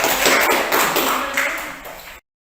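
A classroom of pupils clapping their hands together, a dense, bright patter of many claps rolling on for about two seconds before cutting off abruptly.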